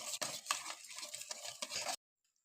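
Ginger juice is stirred into a mixture, giving about two seconds of soft, quiet scraping and swishing before it stops abruptly.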